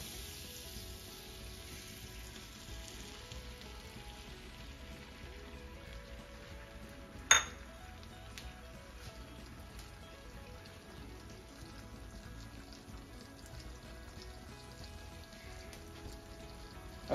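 Eggs frying in melted butter in a hot pan for sunny side up eggs, a faint steady sizzle and crackle throughout with one sharp tap partway through.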